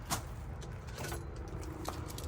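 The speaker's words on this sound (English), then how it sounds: "Let me get the keys." Keys jangle at the door of a long-vacant building, a few faint metallic rattles and clinks spread across a couple of seconds, with quiet background noise.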